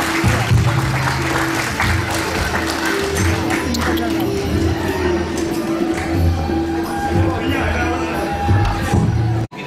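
An audience claps steadily at a community event in Cyprus, dense and close, with a low hum and murmur beneath and the clapping stopping abruptly at the end.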